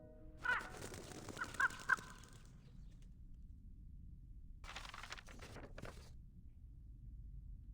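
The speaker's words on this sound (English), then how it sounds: "A crow?" A crow caws in the mobile game Reverse: 1999, harsh calls in two short bursts a few seconds apart over a faint, low background hum.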